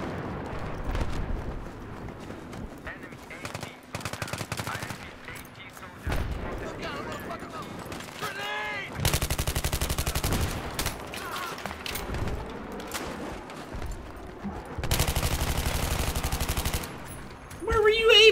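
Gunfire in Battlefield 3, repeated bursts of rapid automatic fire in several long volleys across the stretch, interspersed with quieter gaps, over which someone talks.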